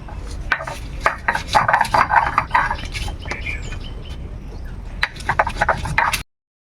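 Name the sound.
grinding chillies for a recipe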